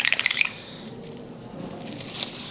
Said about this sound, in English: So you can see it bubbling up